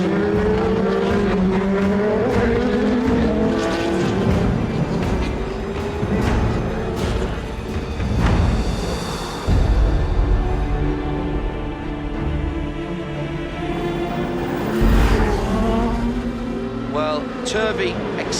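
LMP2 prototype race cars at Le Mans late in the race, engines roaring and fluctuating continuously with passing surges, under steady commentary speech throughout.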